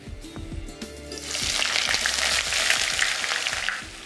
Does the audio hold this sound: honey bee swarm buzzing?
no